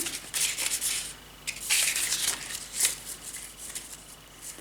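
Several bursts of flashcards being riffled and shuffled close by, crisp papery flutters with short pauses between them.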